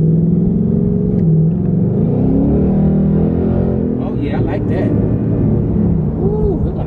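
New Ford Mustang GT Premium in sport mode accelerating hard, a loud close engine roar rising through the revs with a deep rumble, while someone talks over it.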